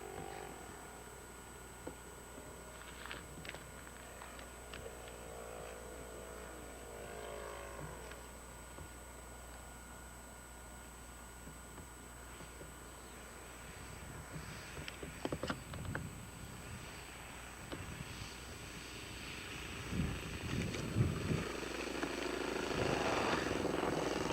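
Small aircraft landing downwind, with a faint, steady engine drone throughout and a few louder bumps and rattles toward the end.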